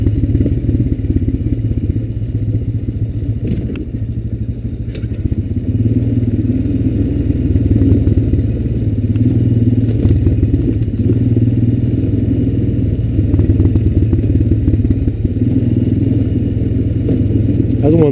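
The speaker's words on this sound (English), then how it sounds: "when you let off the gas, pop and, you know, in the exhaust like that. It always sounds good" A Honda Recon ATV on its stock exhaust runs close by, its mid-pitched engine holding a steady, clattery idle and low rumble throughout.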